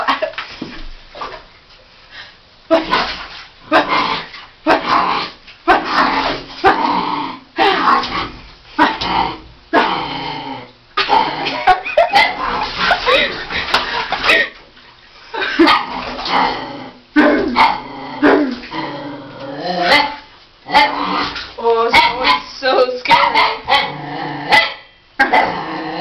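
A small Miniature Pinscher barks and yips repeatedly in quick bursts through glass, close by, with occasional growls and whimpers between the barks.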